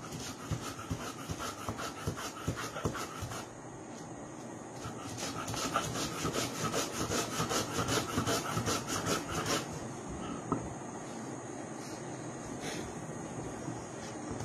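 Non-veg mayonnaise is ground by hand on a stone shil-nora slab: rhythmic, rasping back-and-forth rubbing strokes, close and fairly quiet, heavier in the middle stretch, with no talking.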